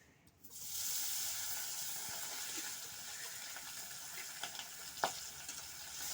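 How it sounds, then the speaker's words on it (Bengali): Bata fish sliding into hot oil in a pan, a sudden sizzle that rises after a quiet start and holds as a steady crackling hiss, with a sharp pop or clink near the end. "তেলটা খুব ভালোভাবে গরম হয়ে গেছে আমি একে একে মাছগুলো তেলে দিয়ে দেবো"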